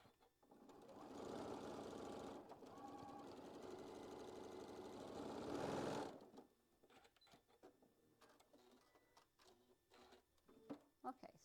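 A sewing machine stitches a quilt block, a loud steady mechanical whir running for about six seconds and then stopping, followed by quiet handling sounds and faint talk.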